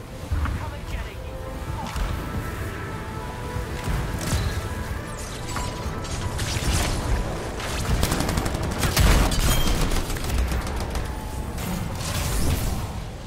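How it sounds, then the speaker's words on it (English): Gunfire and explosions from a battle in the video game Anthem, a dense barrage of shots and bursts filling the scene, loud and sustained, with voices speaking over it. "Hear that? Sounds like a war."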